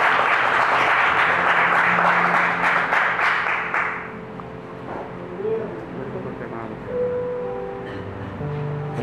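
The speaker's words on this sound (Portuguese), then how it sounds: "E a igreja aplaude ao Espírito Santo" A church congregation breaks into loud sustained applause during a worship service, the clapping filling the first few seconds before fading into quieter room sound with a voice speaking.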